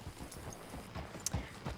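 Horse hooves clip-clop at a stable on a manor in the video game Red Dead Redemption 2, a short run of soft, even hoof steps at moderate distance with faint ambient background.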